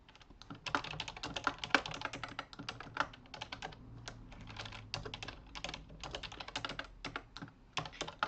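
Fingers type on a computer keyboard in quick irregular bursts of clicks, close and clear, while card payment details are entered; no talking.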